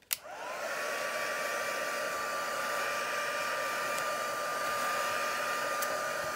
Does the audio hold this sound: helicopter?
no